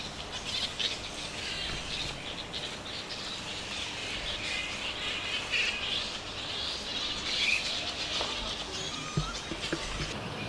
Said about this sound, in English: Anyone who goes anywhere near a flying fox colony, one of the first things they notice, of course, is the noise